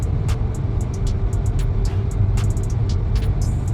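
A 2023 Volvo S60 cruises smoothly at about 48 mph, heard from inside as a steady low road and engine hum, with faint repeated ticks and clicks over it.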